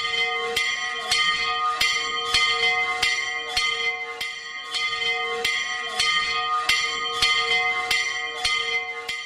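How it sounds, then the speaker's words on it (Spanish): Church bells ring out from the bell tower in Cornago, La Rioja, a steady run of bright, resonant strikes repeating about every half second with a long humming tone beneath, loud and close with no voices. "Porque suenan las campanas de Cornago."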